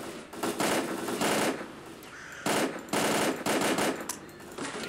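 Automatic gunfire in STALKER Clear Sky, several loud sustained bursts of rapid shots separated by short pauses.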